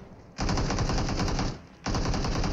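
Rapid automatic gunfire from a rooftop shooter in an airdrop battle-royale video game, two loud sustained bursts with a short dip between them, close and dominant with no talk.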